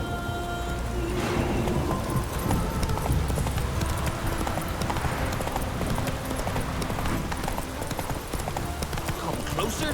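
Hooves clip-clop steadily at a gallop in The Witcher 3: Wild Hunt, a continuous loud rhythmic pounding that runs the whole stretch, with game ambience and a voice speaking over it.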